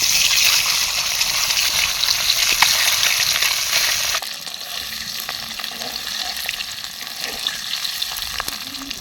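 Duck eggs fry in hot oil with a loud, steady, crackling sizzle that drops slightly in level partway through and keeps going without pause.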